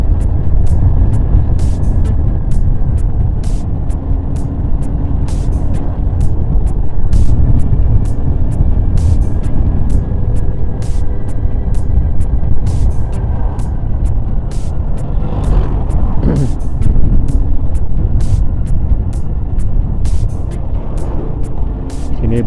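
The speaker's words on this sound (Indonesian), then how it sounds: "bus sekolah." A roadside scene where a school bus goes by with a continuous low engine rumble and road roar, some passing tonal whines, and repeated short clicks throughout.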